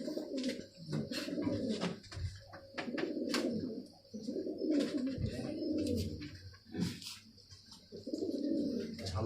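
Pigeons coo repeatedly in a low, throaty rolling rhythm at a pigeon race spot, close and steady, with faint chirps and small sharp sounds overhead and no talking.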